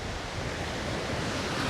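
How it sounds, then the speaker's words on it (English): Sea swell rolling in at Colwyn Bay in the evening, a continuous broad wash of surf with wind noise on the microphone, steady and fairly close, no voices. "there is, as you can see, a lovely swell there tonight"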